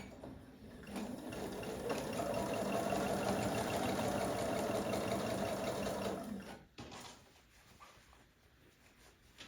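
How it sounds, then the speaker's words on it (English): A sewing machine runs steadily for about five seconds while stitching a quilt seam for a New Year's Day mystery quilt, the motor hum stopping abruptly before quieter handling sounds follow. "I'm going to press it down here so it does not move as I start stitching."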